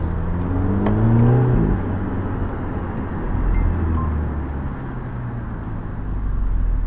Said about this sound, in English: There's a very faint whining sound